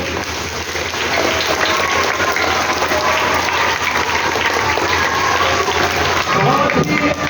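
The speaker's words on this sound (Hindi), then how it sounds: "सभी भैया बहनों के लिए जोरदार तालियां बजाइए।" Loud, sustained applause from a large gathering of schoolchildren at a cleanliness event, honouring the cleaning staff, with dense steady clapping filling the whole stretch and faint voices underneath.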